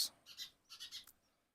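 Small birds chirp near a hung wooden nest box in short bright bursts, three or four quick clusters of tweets at close range, fading out at the end, with no talking.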